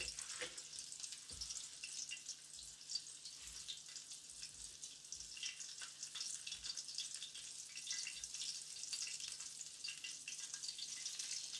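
Cornmeal-coated fish fries in about half an inch of melted lard in a pan, giving a steady, fairly quiet crackling sizzle with scattered pops and light clinks throughout.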